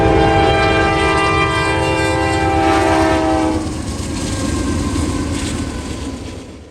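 A Norfolk Southern manifest freight train in Marion, Ohio, running from Portsmouth to Bellevue, blasts a loud, steady horn for about three and a half seconds, then rolls on with a heavy, continuous rail rumble that slowly fades.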